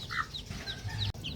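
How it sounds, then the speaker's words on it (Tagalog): Chickens in a coop, with a brooding hen and her chicks, make soft close clucks and short high peeps in quick, irregular bursts, ending in a brief bump. "Pakita ko pala sa inyo yung mga sisiw."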